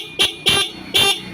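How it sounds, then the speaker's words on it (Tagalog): A Skygo motorcycle horn honks three short, loud beeps in quick succession, close by. "Tsaka inayos ko rin po yung horn."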